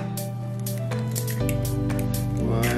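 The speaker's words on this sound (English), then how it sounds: "we need to stir in the almond flour and the baking powder, and then my 2 eggs" Almond flour, baking powder and eggs being stirred into soft cheese in a bowl for keto bagels, giving continuous wet squishing and scraping with a steady background hum, no talking.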